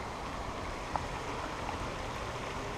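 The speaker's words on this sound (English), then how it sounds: "Another creek coming in" Water from a side creek flowing into Black Creek, heard as a steady, broad rushing wash with no clear pauses throughout.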